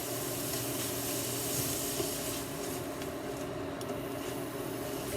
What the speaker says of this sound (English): Let's just fry it a bit more.